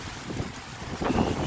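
Strong dust-storm wind sweeps across the Sira industrial cricket ground, roaring and buffeting the microphone in a continuous gusty rush.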